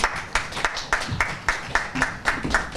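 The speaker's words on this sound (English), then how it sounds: "deserves another round of applause" An audience at a public election review event claps in a steady, rhythmic pattern of roughly three beats per second, fairly close and continuous, with no speech over it.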